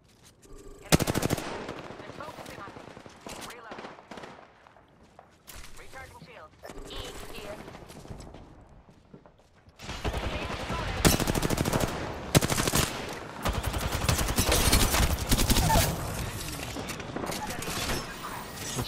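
Automatic weapon fire crackles in Apex Legends during a close-range ranked fight, with loud rapid bursts early on and dense, sustained gunfire through the second half.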